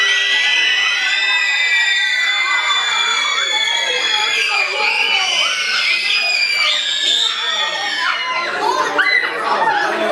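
Children screaming together in imitation of a ghost's hideous scream, a loud, shrill, continuous chorus of wailing voices that lasts about ten seconds.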